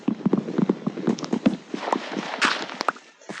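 Blocky horse hooves clopping in the video game Minecraft, a quick run of close, clear steps in an uneven rhythm lasting a few seconds, with faint game sounds alongside.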